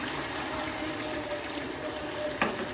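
Broth being poured into a pan of pangas fish curry that has been fried until the oil separates, a steady close watery pour with a short splash near the end and no talk.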